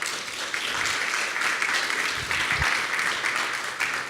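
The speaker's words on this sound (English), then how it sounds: "Let's give a big round of applause to the panel." An audience at a climate change panel discussion gives a steady round of applause, a continuous wash of clapping at moderate volume with a few low thumps partway through.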